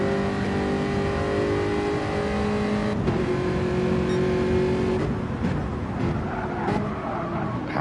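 Race cars, including an Aston Martin, rev and roar through a close GT race, with steady loud engine drone, shifting pitch and a few sharper bursts as cars jostle near one another.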